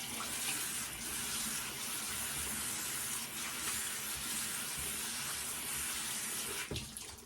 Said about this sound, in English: I'm going to use cold water